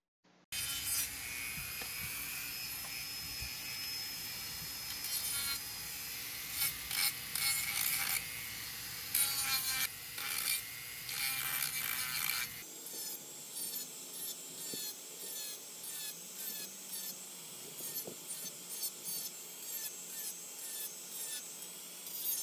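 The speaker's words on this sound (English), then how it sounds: "Then I used a Dremel with a sanding wheel on it to get it the rest of the way nice and smooth." A Dremel rotary tool fitted with a sanding wheel smooths small wooden parts for a homemade towfish body, giving a close, gritty whirring rasp in short uneven strokes, louder at first and then thinner and quieter.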